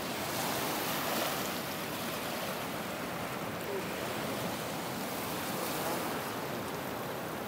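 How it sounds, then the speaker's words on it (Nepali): Waves lapping on a bank of the Kaligandaki river, a continuous broad rushing wash of water, steady and fairly even throughout with no voices. "ल हेर्नुहोस् यस्तो मजाले छाल हानिराखेको छ"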